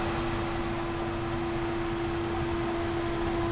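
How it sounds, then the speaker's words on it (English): The fan of a countertop water distiller runs steadily, a quiet, even whooshing hum with a faint tonal drone and no change throughout. "What you're hearing is primarily just the fan."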